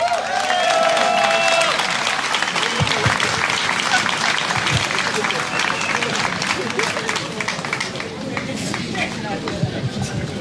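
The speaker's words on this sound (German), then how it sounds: "Applaus!" Sustained applause and clapping from an outdoor crowd at a peace and social justice demonstration, loud and continuous across the whole stretch with some crowd murmur mixed in.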